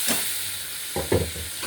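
A paste of turmeric, chili and coriander powder loosened with water sizzles in a hot pan for a Bengali prawn malai curry, with a steady hiss broken by a few short sputters and stirring noises.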